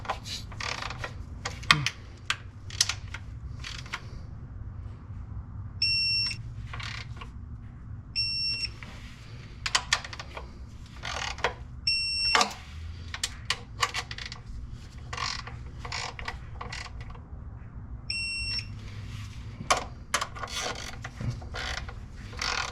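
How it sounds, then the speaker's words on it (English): Digital torque wrench tightening transmission pan bolts on a Duramax, repeated ratcheting clicks with several short high electronic beeps as set torque is reached, close and fairly loud over a steady low background hum. "use my digital torque wrench here, set it to, I don't know, 60 inch-pounds or so"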